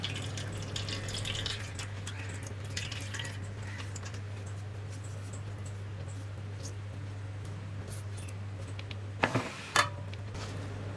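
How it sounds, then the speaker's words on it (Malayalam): Grated coconut is squeezed by hand and strained for coconut milk. Soft wet squishing and dripping sound faintly over a constant low hum, with a few louder splashes near the end. "ഇത് നമുക്ക് ആദ്യത്തെ പാല് പിഴിഞ്ഞതുപോലെ തന്നെ പിഴിഞ്ഞ് അരിച്ചെടുക്കണം"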